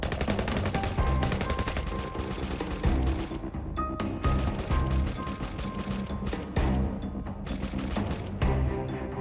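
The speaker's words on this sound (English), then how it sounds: "a Russian BMPT Terminator rakes a woodline with twin 30mm guns and guided missiles" A Russian BMPT Terminator tank support vehicle fires its twin 30mm guns at a woodline, loud continuous rapid bursts of automatic cannon fire that run almost unbroken, with brief gaps between volleys.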